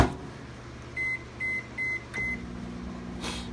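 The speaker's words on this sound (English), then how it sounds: "So I'll pop that in the microwave there." A microwave oven hums steadily at low level, then gives four short evenly spaced beeps as it finishes, followed by a brief click and faint room noise.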